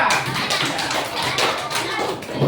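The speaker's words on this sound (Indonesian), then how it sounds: "Tepuk tangan dulu buat kelompok 2." A primary school class claps hands together for a group, a brief burst of dense, close clapping from many children in a classroom, steady and loud throughout.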